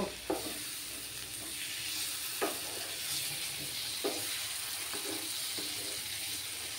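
Ingredients for a Bengali vegetarian soybean curry sauté in a pan with a soft, continuous sizzle, broken by a few spoon scrapes and knocks as they are stirred, fairly quiet and close.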